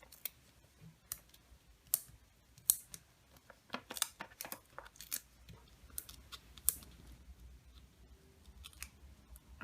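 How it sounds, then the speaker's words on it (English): Backing papers being peeled off adhesive foam dimensionals during cardmaking, heard as quiet, irregular crisp clicks and ticks spread across the whole stretch, close by, with no talking. "I'm just peeling off the backings of my dimensionals"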